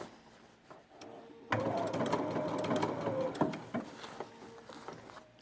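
A Bernina sewing machine stitches a basting stitch. After a quiet moment, a close, steady mechanical whir starts up and runs for several seconds, with light ticking on top, then slows and stops.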